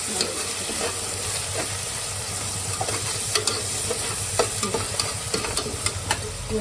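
Potatoes and softened tomato fry in oil for a vegetable biryani, a continuous close sizzle broken by repeated scraping stirs of a spoon against the pan.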